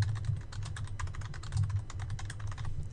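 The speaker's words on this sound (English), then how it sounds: "So we'll type that into the search box at the top of the page" Search words typed on a computer keyboard, a quick, steady run of close, crisp key clicks with no talking.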